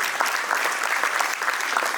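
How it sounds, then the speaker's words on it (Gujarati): An audience claps together to welcome visiting guests at a school gathering, a dense, even burst of applause lasting a couple of seconds. "બધા તાળીઓથી એમનું અભિવાદન કરીશું"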